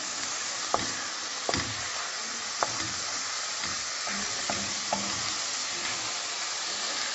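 Steady sizzling of fennel stalks and onion sautéing in a pan over medium heat, with occasional clinks and scrapes of a spatula stirring at irregular intervals.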